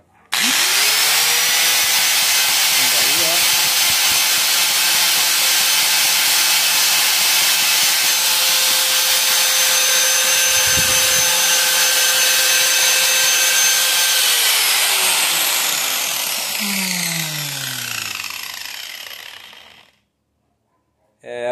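An angle grinder, just repaired at its on/off switch, spins up with a rising whine, then runs at a loud, steady high pitch with a brief knock midway before winding down to silence.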